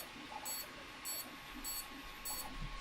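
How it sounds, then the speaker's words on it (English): A buzzer beeps in four evenly spaced short bursts about half a second apart. Each beep is thin and high, fairly faint, and sounds over a steady background hum. "It's beeping."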